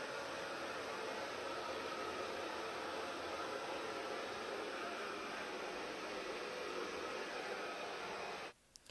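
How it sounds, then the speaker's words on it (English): A hair dryer with a diffuser drying curly hair blows as a steady, close whooshing hum that runs unbroken for about eight seconds, then cuts off abruptly near the end. "I'm kind of just putting the diffuser around my head"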